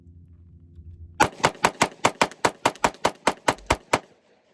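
Smith & Wesson M&P Shield X pistol fired rapidly, a fast even string of about fourteen sharp, loud shots, each with a short decay, followed by silence.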